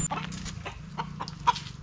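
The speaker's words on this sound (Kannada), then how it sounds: "ಕೋಳಿ ಇದು" A chicken clucks in short, soft bursts close by in a rural home setting, several quick clucks spread over a brief moment with quiet background.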